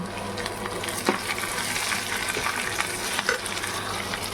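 A tadka of tempering spices sizzling in hot oil in a pan, loud steady frying with spoon stirs and a few sharp scrapes throughout, no speech.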